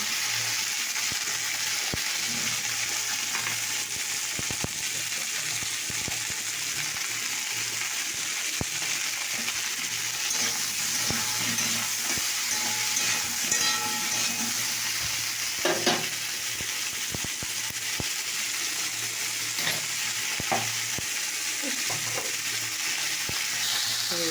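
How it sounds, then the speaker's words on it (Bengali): Cauliflower fries in hot oil after fish, a steady loud sizzle and bubbling hiss running throughout, with occasional clicks and scrapes from stirring. "আমার ফুলকপি ভাজা হয়ে গেছে।"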